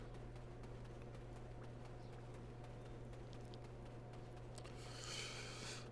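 Horse hooves in Black Desert Online clip-clop in a steady quick rhythm, faint and low under a constant game hum, with a brief whooshing swell near the end.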